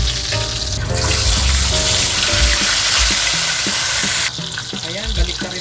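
Tilapia fries in hot oil with a loud, steady sizzle and crackle, and the fish is lifted out of the pan with scraping utensil taps. The sizzle drops and thins toward the end.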